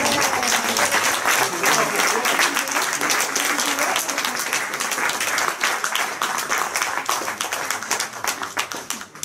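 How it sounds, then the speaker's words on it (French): An audience keeps applauding after a talk, thick crowd clapping that stays strong at first and then thins into looser, more scattered claps toward the end. "Vous pouvez continuer à applaudir hein, si vous voulez pour Marc"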